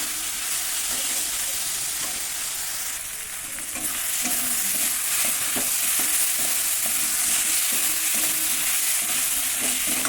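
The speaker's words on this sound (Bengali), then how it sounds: "ভালো করে মশলা কষিয়ে নিচ্ছি।" Spices sizzle steadily in a hot pan while being stirred for a potato and soybean curry, a loud continuous frying hiss with scraping stir strokes throughout, no voices.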